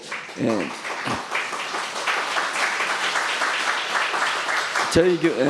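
A church congregation claps during a Sunday worship service to welcome a visiting member, steady applause filling the room while brief voices break through at the start and the end.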